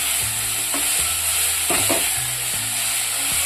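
Vegetables frying in a pan, an even, continuous sizzle with occasional stirring clicks and scrapes, close and steady throughout, with no voices.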